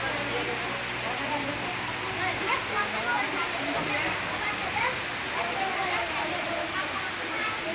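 Heavy rain pours down in a constant, dense hiss during a sunshower in Sharsha, Jessore, Bangladesh, filling the whole stretch with an unbroken wash of falling water.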